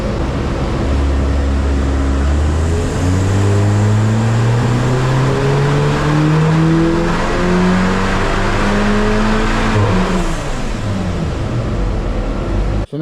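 A car engine held on a light-load run to cool down drones loudly and continuously, its pitch climbing steadily for several seconds, then dropping back before cutting off abruptly.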